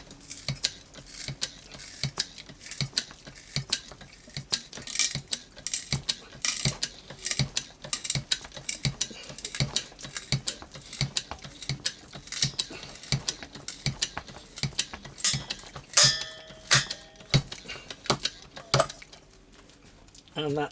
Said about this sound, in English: So close the valve on the hydraulic pump and then begin pumping.